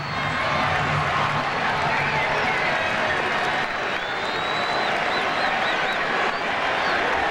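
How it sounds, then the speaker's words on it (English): Baseball stadium crowd at a game, standing and cheering with a steady, dense roar of many voices that stays fairly loud and even throughout, with scattered shouts and whistles rising above it. "Not crazy cheering, but the fans are standing and waiting."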